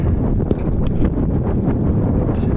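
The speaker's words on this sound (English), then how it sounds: "Not that easy with the wind just all of a sudden picking up." Gusty wind buffeting the microphone on a lake during bass fishing at Albert Falls, South Africa, a loud continuous rumbling roar with no clear talk.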